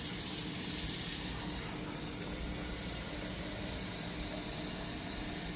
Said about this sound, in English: So I'm definitely going to add a little bit more water.